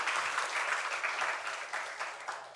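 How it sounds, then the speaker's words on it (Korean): A congregation at a Sunday worship service gives a round of applause, with continuous, moderately soft clapping filling the whole short stretch. "우리 하나님께 영광의 박수 올려드리겠습니다."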